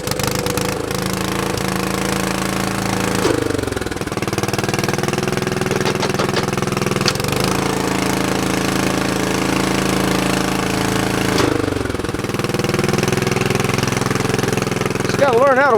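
A Lickity log splitter's small gasoline engine runs loud and close at a rough idle throughout, its pitch dipping and recovering a few times as the choke is adjusted, with a voice speaking faintly underneath.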